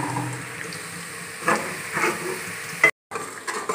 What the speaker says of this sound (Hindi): अदरक लहसुन का पेस्ट पा के 2 मिनट वास्ते फ्राई कर लिया